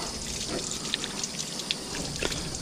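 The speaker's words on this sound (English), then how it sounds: "we'll rinse this off real quick." Running tap water rinses a freshly cleaned Atlantic sharpnose shark at a sink, a steady close splash and trickle with a few small drips rising above it.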